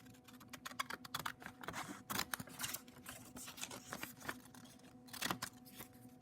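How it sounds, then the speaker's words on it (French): Scissors cutting out a paper angle, a quiet sequence of quick crisp snips and paper rustles in uneven bursts, with no talking. "je vais découper l'angle dont je vais me servir pour faire ma rotation"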